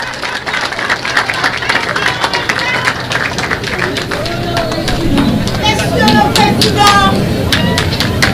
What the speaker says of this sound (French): Aux applaudissements.